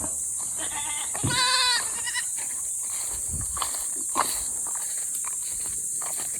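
Pet goats in hot weather as they are watered, one loud wavering bleat up close, followed by shuffling steps and light knocks over a constant hiss.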